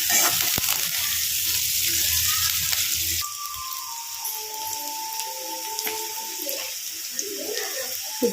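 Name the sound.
curry leaves and onions sautéing in a pan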